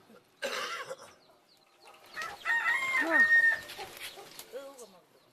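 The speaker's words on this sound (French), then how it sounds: "Le chant du coq" Rooster crowing near a house at breakfast time, one clear crow in the middle of the clip with clucking and brief noises around it, moderately close, with some background voice sounds.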